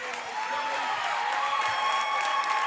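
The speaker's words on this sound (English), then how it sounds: "It's a big round of applause from the Beckley fans here" Steady applause and crowd noise from Beckley fans in a high school basketball gym, a broad, even wash of clapping held at moderate level throughout, with a faint tonal hum underneath.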